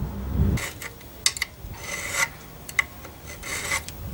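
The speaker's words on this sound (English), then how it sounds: "filing it to create a thin line" Rasping strokes of a metal file scraping back and forth across a chocolate ripple cake, in several short bursts, close up with no talking.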